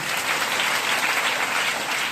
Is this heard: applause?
yes